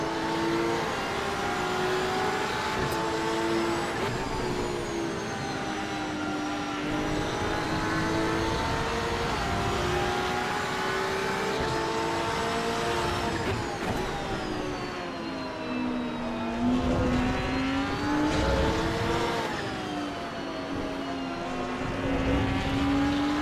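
Porsche race car engine in the racing game Assetto Corsa EVO, a loud continuous drone that rises and falls in pitch through shifts and corners, heard close and alone without talk.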